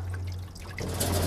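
Water from a gallon jug poured out for rabbits in the morning, a brief, close trickle and splash that swells toward the end of the short moment.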